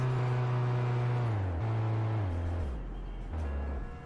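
A car driving in GTA, its engine droning steadily and shifting pitch through several gear changes, close and alone with no talk.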